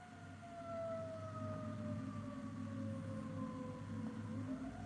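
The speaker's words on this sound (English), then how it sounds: "Fire engine." A yellow fire engine's siren wails from a distance, a faint, steady tone slowly gliding downward and rising again near the end over a low background hum, with no voices.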